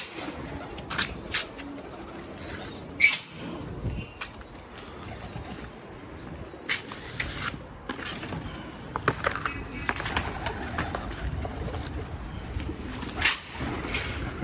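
Pigeons coo softly amid a busy outdoor background with scattered clicks, rustles and occasional sharper bursts, continuing throughout.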